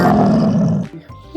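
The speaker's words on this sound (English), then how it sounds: "lion," A lion gives one loud, close, rough roar that breaks off abruptly near the end, leaving a short quiet gap.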